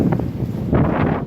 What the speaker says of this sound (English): When the wind blows though, it takes your breath away if you're there.